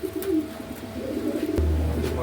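Several pigeons being sold as a group of three coo in soft, repeated low throaty rolls, with a steady low rumble of background noise underneath.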